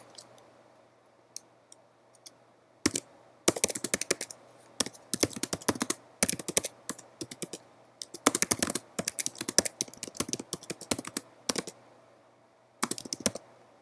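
Someone types on a computer keyboard in a quiet room, with bursts of soft, rapid key clicks separated by short pauses.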